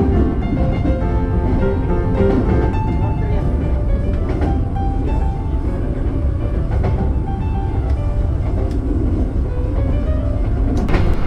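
The Bangunkarta economy train departs from platform 7 at Cirebon station, a loud, continuous low rumble and rolling drone throughout, with a voice speaking over it.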